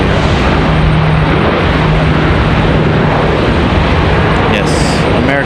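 An American Airlines jet arriving from Dallas Fort Worth at Raleigh Durham International, a loud, steady broadband engine roar filling the whole span, with a faint low tone running underneath.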